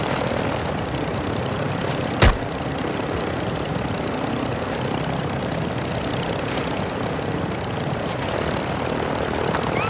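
Helicopter in the Call of Duty DMZ video game on the Al-Mazrah map, a steady droning rotor and engine noise filling the scene, with one sharp crack partway through.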